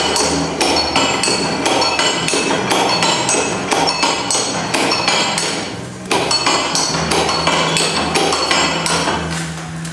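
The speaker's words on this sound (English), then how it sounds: "And what you do, you squish it, it's just a ratchet press." A ratchet cider press is pumped over and over, its repeated sharp metallic clacks coming in a steady, loud rhythm with one brief pause midway, during September cider making.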